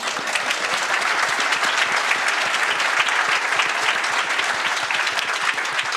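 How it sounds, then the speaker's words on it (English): Dense, steady applause from a fans' forum audience in June 2025, many hands clapping loudly and continuously throughout with no speech over it. "everyone deserves a huge round of applause"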